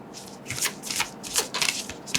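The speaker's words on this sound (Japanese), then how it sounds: "最後にもう一枚オラクルカード引いてみますね。" Oracle cards are shuffled by hand in a series of quick, crisp riffling bursts, close and fairly loud, with short pauses between them and no talking.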